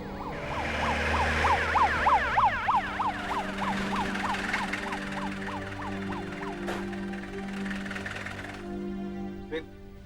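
An ambulance siren wails with a rapid rising and falling yelp, loud and close at first, then settles into a steadier tone over engine rumble, with faint voices underneath.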